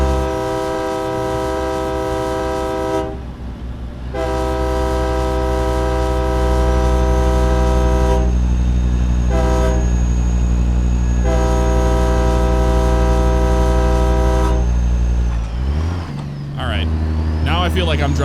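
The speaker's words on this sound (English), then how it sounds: "We almost have to do the train horn, you know, since it sounds like an actual train horn." A truck's train horn from the Zeemods CAT C15 mod in a truck driving game blares in long, loud, sustained blasts over a deep engine drone, with a few short breaks and a change in pitch near the end.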